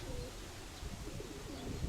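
Soft, low pigeon coos repeat a few times against a muffled outdoor background, faint and somewhat distant.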